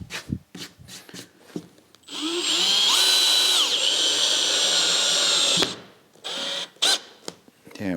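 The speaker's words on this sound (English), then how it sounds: "I have here a shaper, which is actually the same concave shape as the screw. So I can sink in the screw in the wood," A power drill drives a screw into oak for a vintage door, cutting a countersink with a matching concave shaper bit. The drill whines steadily at close range for about three and a half seconds, with short bursts of handling noise before and after.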